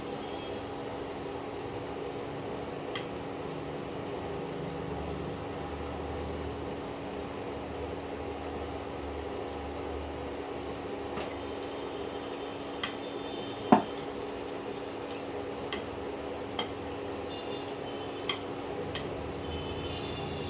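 Palm fruit fritters (taler bora) frying in hot oil give a steady, even sizzle, with a few faint clicks and taps from the pan.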